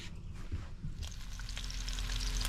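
Thick farm-fresh smoked bacon sizzles in a skillet aboard a homemade houseboat, a steady crackling fry that swells slightly over a low background rumble.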